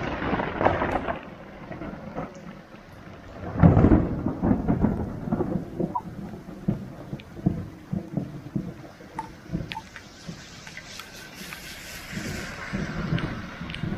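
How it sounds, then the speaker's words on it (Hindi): Heavy monsoon-season rain pours steadily outdoors in Bihar, India, with a loud rumble of thunder near the start and lighter rumbles and splashes running through the rest. "बारिश हो रही बहुत ही भयंकर वाली"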